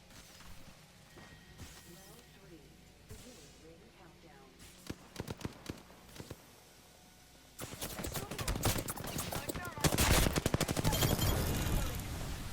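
Rapid automatic R-301 rifle fire in Apex Legends, with bursts of sharp shots that turn into sustained heavy gunfire in the second half, played under someone talking.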